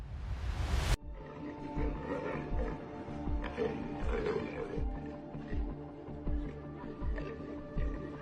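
Lion growling and thrashing while a woman carries it, with low rumbling growls and bursts of struggle recurring at close range and no one talking.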